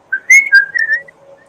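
A person whistles a short rising-and-falling two-part phrase imitating the words taught to a pet cockatiel, clear and close with brief pauses between notes.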